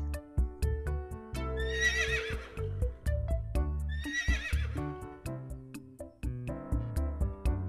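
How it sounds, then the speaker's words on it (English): A horse neighs twice in long, shrill whinnies set into a children's phonics song, with music and rhythmic clip-clop-like beats continuing between the calls. "H for horse."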